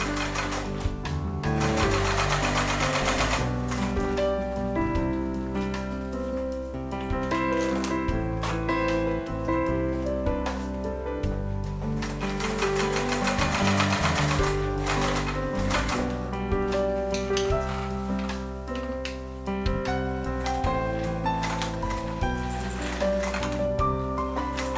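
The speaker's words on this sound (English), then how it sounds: "We need to close the pocket, and we do that by sewing across the top here." A home sewing machine stitching across the lining of a tote bag, a steady mechanical whirring with a fast rhythmic needle clatter running close and continuous, slowing and resuming briefly at points.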